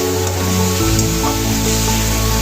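Ginger garlic paste sizzles and fries in a pan with softened tomatoes, a steady loud hiss and crackle running throughout with no pause.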